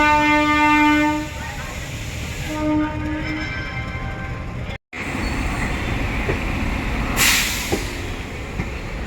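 An Amrit Bharat Express train horn sounds a long tonal blast and a shorter second toot, followed by continuous rumbling rail noise and wheel clatter from a running train, with a brief cut and a hiss near the end.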